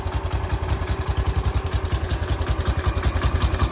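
A 1969 John Deere 140 lawn tractor engine runs close and loud with the choke stuck partly on, a rich, loping idle with a rapid, uneven pulsing beat and mechanical clatter.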